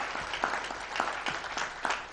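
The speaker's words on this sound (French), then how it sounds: "je vous demande de les applaudir." An audience at an annual meeting claps in steady applause, a dense patter of hands at moderate distance that holds even for the whole stretch.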